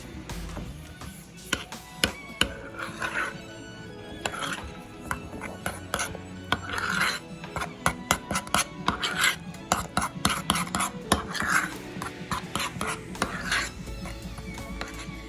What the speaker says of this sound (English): And we're going to mix this up.